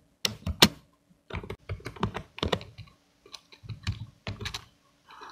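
Keys clatter on a computer keyboard as C code is typed, in short uneven bursts of close, crisp clicks separated by brief pauses, with no talking.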